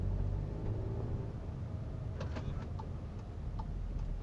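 A car with a EuroDyne Stage 2 tune and Circuit Werks downpipe, driven in normal mode, gives a steady, close low engine rumble as it shifts, with faint light ticking over the drone.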